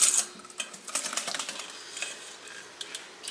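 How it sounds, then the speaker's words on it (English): Pudding mix and milk stirred in a bowl, giving a close, quiet run of light scraping and clicking taps that start with a louder burst and then continue irregularly. "I'm gonna give this a stir"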